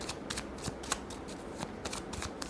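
Tarot cards being shuffled by hand, with a quick series of soft riffling and slapping bursts, close and quiet, with no talking.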